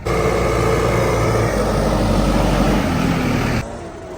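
Massey Ferguson 5711 tractor engine running steadily nearby, a loud low diesel drone with constant rumble that drops off abruptly near the end, no voices.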